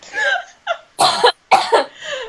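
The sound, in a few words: coughing after choking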